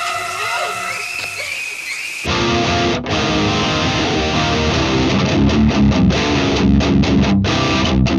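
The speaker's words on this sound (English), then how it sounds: "I'm plugged in to my Randall Satan 120 here" Electric guitar through a Randall Satan 120 amp on its distortion channel: a short sustained passage first, then a heavy, dense saturated riff with brief stops and chugging muted hits, loud and continuous.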